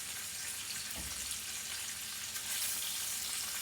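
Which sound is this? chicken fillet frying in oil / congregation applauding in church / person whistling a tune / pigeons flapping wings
chicken fillet frying in oil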